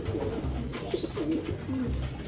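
Pigeons cooing close by, a few soft throaty warbling calls in quick succession over a low background hum.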